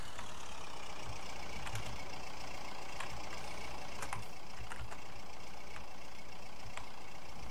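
A UTB 650 utility tractor engine running on a farm without its muffler, a steady loud rough drone with sharp intermittent clicks and knocks throughout, no talking.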